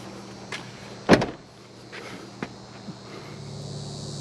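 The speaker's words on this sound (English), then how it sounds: "So now, basically, I can close up my car and head off to the apiary." A car door shuts with one sharp, solid thud near the start, followed by a few faint knocks and footsteps outdoors, with no speech.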